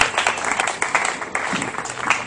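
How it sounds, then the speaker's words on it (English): Small outdoor stand-up comedy crowd applauding a comedian with no stage, steady scattered clapping at moderate volume with a few voices under it. "Big round of applause for Danny Buck,"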